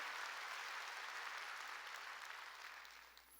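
A church congregation applauds together in a steady, sustained wash of clapping that stays fairly faint and even throughout, easing off slightly near the end, with no voices standing out.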